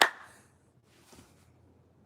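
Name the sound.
hand clap echoing through a forest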